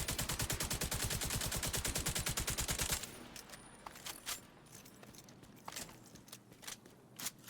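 In a hardcore survival video game, a gun fires in a rapid, even burst for about three seconds, emptying its magazine, then gives way to quieter footsteps and scattered clicks and thuds.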